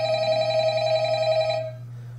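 A telephone rings in an Undertale fan-made night-shift horror game: one steady electronic ring, loud and close, sustained with a low hum under it, then cutting off abruptly.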